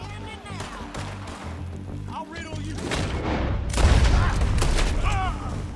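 Rapid bursts of gunfire and booming blasts during a stagecoach robbery in the video game Red Dead Redemption 2, loud and layered, with a voice talking over the action.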